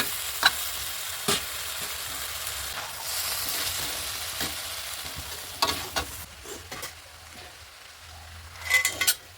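Boiled mixed vegetables stirred in a frying pan for a winter vegetarian dish, with a steady sizzle and repeated scraping strokes of the spoon and occasional clinks, close and without talk.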